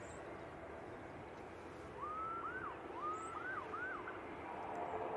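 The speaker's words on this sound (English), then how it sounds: "They just found the sirens button. Yes, press the siren." A police-style siren wails at a distance in a few rising and falling sweeps over steady airport background noise at a plane-spotting spot.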